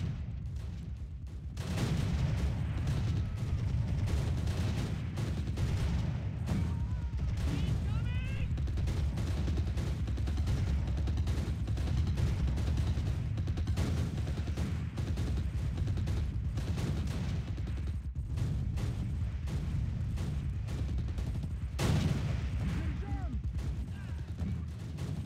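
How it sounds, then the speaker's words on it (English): Bombardment of a building in the war game Close Combat, a long stretch of continuous gunfire, explosions and mechanical rumble, loud and dense, with a voice talking at times. "Let's just bomb the shit out of the building."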